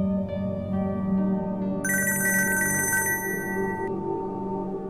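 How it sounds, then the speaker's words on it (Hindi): A phone ringtone chimes in a bright melodic burst over a low steady hum, lasting a couple of seconds before fading. "देखिए फोन बज रहा है"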